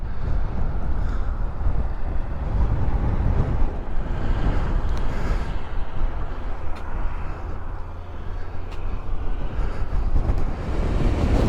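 Constant heavy wind from a passing storm's remnants buffets the microphone on a high vantage point, a loud low rumbling roar that barely lets up throughout.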